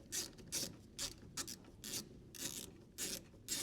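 Hose clip being tightened on the coolant hose of a classic Ford Fiesta during a water pump job, heard as a series of short ratcheting bursts repeating at an uneven rhythm, close and fairly quiet with no talking.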